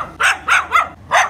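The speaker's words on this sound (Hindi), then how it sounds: "आज मुझे तो कुत्ते भी पाड़ने लग गए हैं भाई मेरे गांव के" Village dogs barking nearby, four sharp, loud barks in an uneven rhythm with short pauses between them and no voices.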